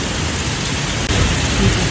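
Heavy rain pours in a dense, constant roar as strong wind gusts during an Easter-holiday storm. A low rumble surges near the end.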